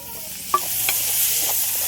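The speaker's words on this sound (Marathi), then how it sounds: "आता फोडणीतली टाकून घेतो मुगाची डाळ आणि परतून घेतो एक वेळ" Moong dal is dropped into a hot tempering for a methi dish and sizzles in the pan, with a couple of light stirring clicks over a steady hiss and no talking.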